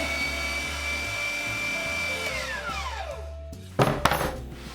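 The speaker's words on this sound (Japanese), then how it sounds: "これミンサーっていう機械なんですけど" An electric meat mincer runs with a steady motor whine and hum, the pitch sagging as it bogs down, then a few louder clanks and rattles near the end as beef belly is fed through.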